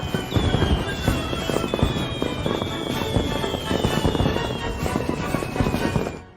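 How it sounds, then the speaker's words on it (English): A cartoon fireworks show fills the scene with loud, continuous crackling and popping bursts, while rising whistles streak over the top throughout. "we now go to this totally boss fireworks show."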